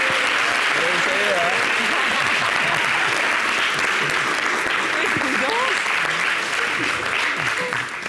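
A large television studio audience claps continuously and loudly for several seconds, with a voice speaking in French over the applause.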